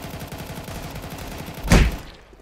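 Gunfire in CS:GO: a steady rattle of quieter distant shots underneath, then one loud, close blast that rings out and fades quickly.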